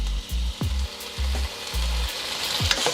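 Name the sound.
chicken pieces frying in oil for chow mein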